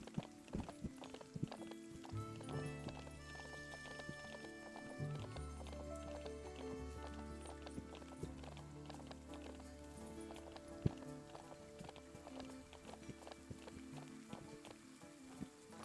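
Horse hooves clip-clop in a steady rhythm during a ride in the video game Ranch of Rivershine, heard clearly over continuous game music.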